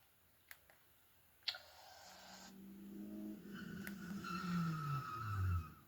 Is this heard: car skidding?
yes